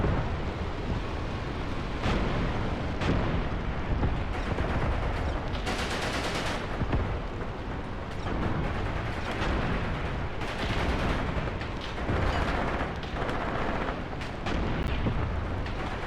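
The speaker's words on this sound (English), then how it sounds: "that artillery is still going off around those Paks" Continuous artillery fire in Graviteam Tactics: Pivot Point, with a dense rumble of distant booms and crackling gunfire overlapping throughout, and a few sharper nearer blasts standing out.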